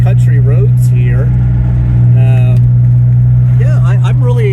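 A DeLorean moving along country roads, its engine a steady loud drone throughout with someone talking over it.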